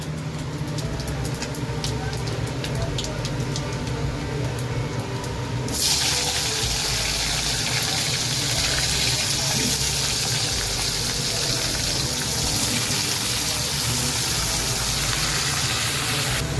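Vegetables tipped into hot oil seasoned with panch phoron, setting off a loud, steady sizzle and frying hiss that suddenly rises and continues to the end, close up, with someone speaking over it.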